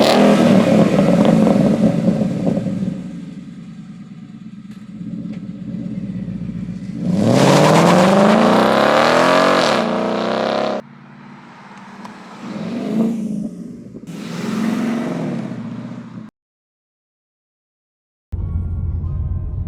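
Newly bought car's engine revving in several bursts, rising and falling loudly nearby, with a short silent gap near the end.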